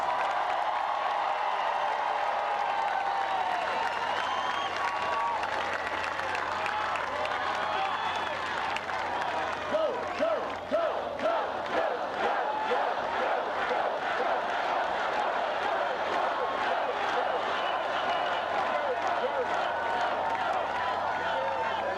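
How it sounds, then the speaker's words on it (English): Large rally crowd applauds and cheers continuously in a political campaign event, with dense clapping, shouts and whistles sustained throughout, loud and reverberant, mixed with crowd voices. "give him another big round of applause"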